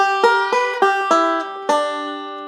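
A banjo playing a delayed forward-roll ending: a quick run of plucked notes in an uneven rolling rhythm, closing on a final ringing note that decays, clear and close.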